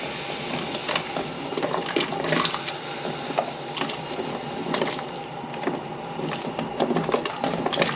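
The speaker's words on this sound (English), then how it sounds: "we are gonna blanch the sweet potatoes just to where it's a little tender" Sweet potatoes are blanched in a pot of boiling water. A soft, continuous bubbling and sloshing runs throughout with occasional light clinks, fairly quiet and close, with no talking.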